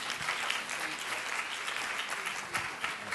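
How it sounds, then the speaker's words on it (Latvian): Audience applause welcoming a Microsoft education solutions specialist at a Ministry of Education event, a steady dense wash of clapping hands filling the room for a few seconds with no voices over it. "Ar aplausiem, jā."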